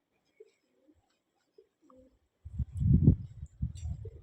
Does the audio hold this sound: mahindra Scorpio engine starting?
no